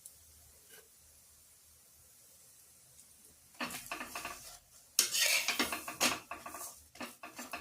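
A metal spatula scrapes and lifts a rice-flour paratha from a hot pan, with short scraping and clattering bursts that begin about halfway through after a quiet stretch.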